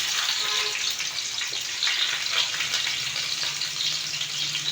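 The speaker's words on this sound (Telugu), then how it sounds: "ఆయిల్ వేడయ్యాక ఉల్లిగడ్డ ముక్కలు వేసుకోవాలండి" Onion pieces frying in hot oil in a pan, a dense, steady hissing sizzle heard up close with no talk, fairly loud and continuous for a few seconds.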